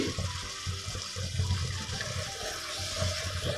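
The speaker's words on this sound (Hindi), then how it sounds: "ये थोड़ा सा पानी डालेंगे और इसको गला देंगे" Water is poured into a pan of cooking masala for spiced cauliflower, making a soft, continuous trickling, splashing pour with low bubbling underneath, faint and close.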